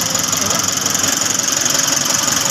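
A car engine idling after an oil change, outdoors in rainy weather, with a steady close-up running drone and a faint rhythmic pulsing throughout.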